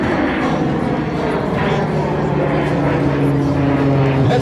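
A TBM-700 military turboprop comes in to land at Breizh Airshow, a steady droning engine tone with a faint rising whine, heard at moderate distance against crowd and wind noise.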